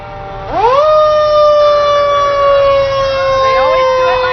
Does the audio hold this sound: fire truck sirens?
yes